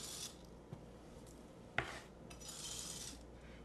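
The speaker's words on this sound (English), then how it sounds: "I'm using the blade of my knife to scrape up my board" A knife blade scrapes crispy garlic chips across a cutting board, giving faint soft rasping strokes with one sharp tap of the blade against the board partway through.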